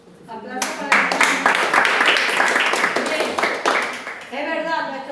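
Congregation applauding during a church class on personal evangelism, a dense burst of clapping that swells quickly and holds steady for several seconds, with voices mixed in near the end.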